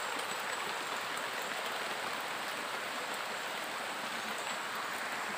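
Very heavy rain falling outdoors at a dig site, a continuous broadband roar of downpour, even and unbroken from start to finish, with no talking.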